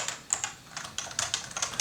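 Typing on a Realforce 86U keyboard: a quick, steady patter of light key clicks at close range, with no voices.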